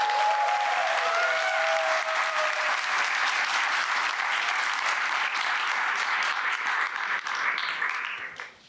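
Sustained audience applause at a lecture on constitutional law, dense and steady for several seconds before tapering off at the end, with no talk over it.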